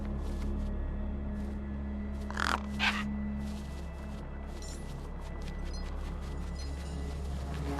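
Two short crow-like caws from the gang birds hovering over a corpse in Beyond a Steel Sky, heard over a steady low ambient hum with a faint distant clatter near the end.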